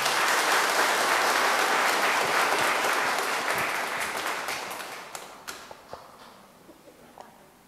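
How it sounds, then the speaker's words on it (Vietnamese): Congregation applauding during a Catholic wedding mass in a parish church, loud sustained clapping that gradually thins out into a few scattered last claps. "chúc mừng cho anh chị bằng một tràng pháo tay"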